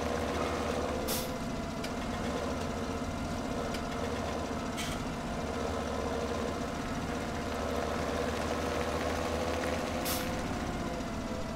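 A heavy plow vehicle shoving a pile of snow across a field in Farming Simulator 17, its engine droning steadily and loudly throughout with a few brief hissing bursts, like air brakes, breaking through.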